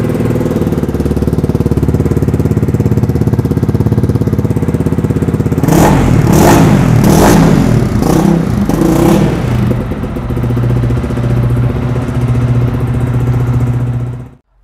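A Speeder NSX 165 motorcycle with a dual-barrel exhaust idles loudly up close, then gives a run of sharp throttle blips before settling back to a rough, steady idle.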